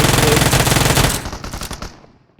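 Rapid automatic gunfire from a game, a loud sustained burst of shots that tapers off into scattered echoing pops.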